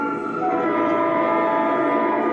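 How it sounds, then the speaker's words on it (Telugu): A train rumbles steadily nearby with sustained tonal ringing, like brakes or a horn, holding loud throughout without any talk. "అదే ట్రైన్ వచ్చేసింది."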